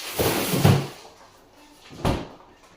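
A kitchen freezer door is pulled open to reach a bag of frozen peas: a quick thud and rustle near the start, a quiet pause, then another short knock, all close by.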